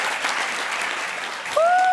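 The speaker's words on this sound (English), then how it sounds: "One more round of applause to Mediated Ear." A crowd applauds a team at the Imagine Cup World Finals with sustained, even clapping, near and fairly loud, and a sharp whistle cuts in near the end.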